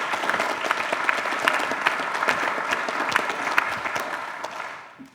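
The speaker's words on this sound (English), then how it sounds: "I think he deserves a round of applause for that as well." Applause from the audience at a memorial lecture, a sustained crowd of hands clapping densely at an even level before fading away at the end.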